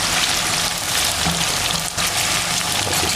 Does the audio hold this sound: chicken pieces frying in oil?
yes